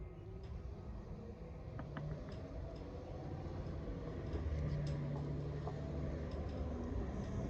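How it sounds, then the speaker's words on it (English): A loud truck passes by outdoors as a low, steady rumble that swells midway and holds, heard from some distance with no talking. "here comes another loud truck"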